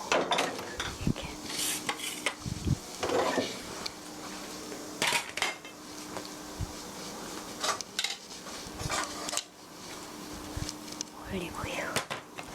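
Fettuccine alfredo being tossed and stirred in a pan on a switched-off stove, with close metallic clinks and scrapes of utensil against cookware in irregular bursts, plus a faint sizzle and soft speech in the background.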